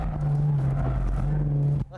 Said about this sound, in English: Step on it to let the rear go. You have to keep revving it within the torque band.